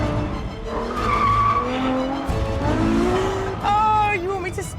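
A Ferrari F12 Berlinetta accelerates hard on the road, its engine note climbing loudly and close up through rising sweeps. A person talks over the roar.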